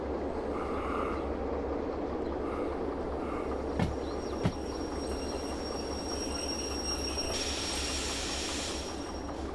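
A freight train rolls along in the Derail Valley simulator on a summer morning, a steady low rumble with rhythmic wheel clatter, a couple of sharp metallic clunks and a thin high squeal near the end, with no talk.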